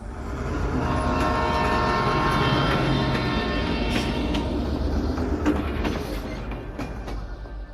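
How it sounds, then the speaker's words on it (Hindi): A train rumbles loudly past at close range, with its horn sounding over a dense roar and rattle of wagons that swells and then slowly eases away. "उस ट्रेन के तुरंत जाने के बाद लोगों ने एक और ट्रेन की आवाज़ सुनी।"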